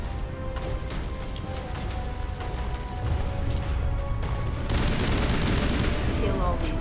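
Turret gunfire in the Mass Effect Legendary Edition video game, dense rapid bursts and crashing impacts that build into a continuous loud barrage, with a voice speaking over the din.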